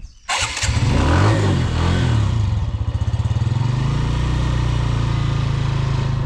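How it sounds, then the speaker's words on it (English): A motorcycle engine starts with a sharp burst and settles into a loud, steady idle with a throbbing rhythmic putter, heard up close and alone. "I need my engine to be run"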